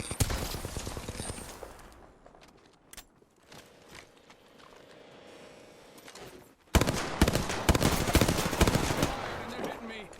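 Video game gunfire crackles in rapid bursts: a dense volley at the start, sparse scattered shots in the middle, then loud sustained automatic fire near the end, with brief speech mixed in.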